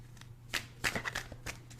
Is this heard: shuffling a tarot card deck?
yes